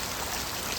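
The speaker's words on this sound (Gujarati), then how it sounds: "મારું વડગામ તાલુકાનો છાપી ગામમાં વરસાદ બૂમ પડાવે છે" Heavy rain pours down in Chhapi village, Vadgam taluka, a dense, even hiss of drops with no voices.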